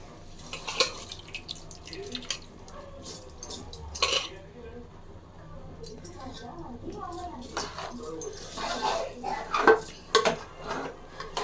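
Masala being stirred into egg biryani in a cooking pot, with scraping and clinking of a spoon against metal in irregular bursts, close up, while a person talks over it.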